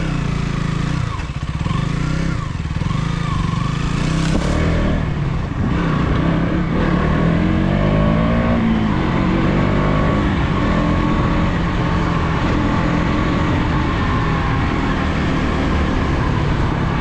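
A KTM Duke 200 motorcycle engine drones steadily while riding over loose sand and mud, loud and continuous with wind rush and shifting pitch throughout.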